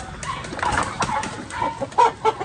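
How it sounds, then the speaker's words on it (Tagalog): Several chickens, some under treatment for illness, one with a swollen face, cluck and murmur close by in short, irregular bursts, with light rustling around them. "yung mga manok natin"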